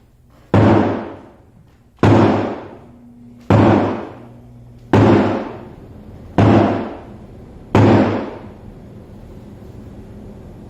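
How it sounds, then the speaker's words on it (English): A standing drum is struck six times with strong alternating right and left beats. Each deep, booming hit rings out and decays before the next, at an even, unhurried pace with no talk. "So I'll play a strong right beat and then a strong left beat"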